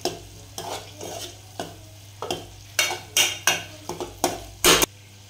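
Tomato masala with salt being sautéed in a pan for a vegetable dish, a run of sharp spatula scrapes and stirring strokes, about a dozen, over a soft sizzle, loud and close.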